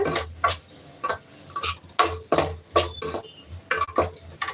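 Squid being stirred in a pan after salt is added, a spoon scraping and tapping against the pan in quick, uneven bursts close up, with no talk.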